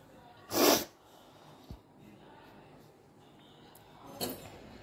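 A person with a cold lets out one sharp, close sneeze in a kitchen, followed by a quiet stretch and a softer, shorter sneezing breath a few seconds later.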